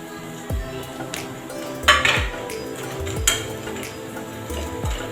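A spoon scrapes and clinks against a pan while samosa filling is mixed with turmeric and chilli masala, several sharp metallic knocks standing out over a soft, steady background with no talking.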